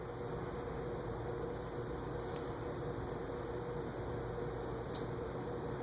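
A Winfull MFGY LTD ceiling fan runs steadily, giving off a constant broadband whoosh of moving air with a low hum and faint tonal whine. Two brief faint ticks sound partway through, and nobody speaks.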